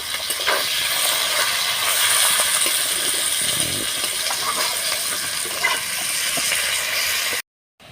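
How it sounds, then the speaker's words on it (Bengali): Chopped onion and green chilli frying in oil, a loud continuous hissing sizzle that holds steady throughout, then cuts off abruptly. "পেঁয়াজ কুচি, সাথে আছে কাঁচা লঙ্কা, সাথে দিয়ে পেঁয়াজটা ভালোভাবে ভেজে নেব।"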